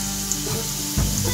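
Momos frying in hot oil give a steady, close sizzle, with a slight swell in the bubbling near the end and no voices.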